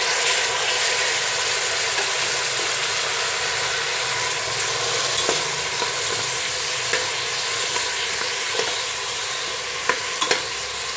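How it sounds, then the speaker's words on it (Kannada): Tomatoes frying in a pan for tomato bath, a steady loud sizzle with occasional stirring scrapes and small pops throughout, with no talking. "ಟೊಮೆಟೊ ಚೆನ್ನಾಗಿ ಫ್ರೈ ಆಗಬೇಕು"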